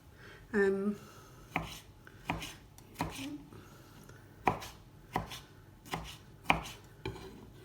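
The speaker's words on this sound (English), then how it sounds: "So just gonna chop away there quickly, pop these in" A knife chopping roasted red peppers on a board in a café kitchen, about ten sharp, irregular cuts ringing out clearly at close range over quiet room tone.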